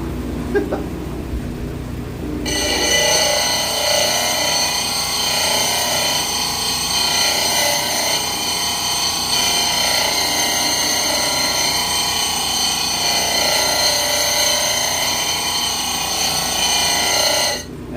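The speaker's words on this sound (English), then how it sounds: "that's just the way it is whenever you're cutting gemstones" A loud, steady high-pitched grinding whine of a lapidary wheel cutting a gemstone starts abruptly after a brief quiet moment and continues without letup.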